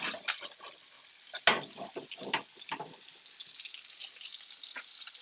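Fennel being stirred with olive oil in a hot pan, giving a soft sizzle with scattered scraping and clattering stirs and a few sharper knocks, close and fairly quiet, with no talk.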